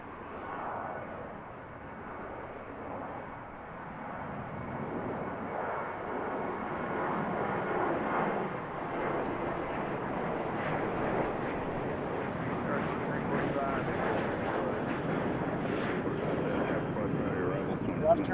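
An airliner arriving on runway 33 left at BWI airport, a broad jet engine roar building steadily from faint to loud as it nears, with voices talking over it.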